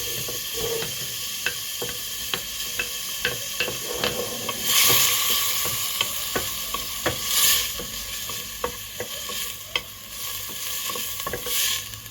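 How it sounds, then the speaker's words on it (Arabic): Diced onion sizzles and fries in melted butter in a pan over moderate heat, with steady spoon scrapes and stirring clicks throughout and bursts of hiss as it is turned, for a carrot and spinach rice dish. "غادي نضيف البصيله"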